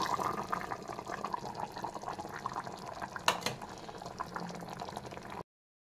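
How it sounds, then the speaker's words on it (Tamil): Masala-ground water splashes and gurgles as it is poured into a pot of gut gravy, with a soft bubbling underneath and a brief clink, then sudden silence. "இப்போ மசாலா அரைச்ச தண்ணி வந்து 1 கிளாஸ் இருக்குது, அதையும் நாங்கள் ஊற்றிடுவோம்."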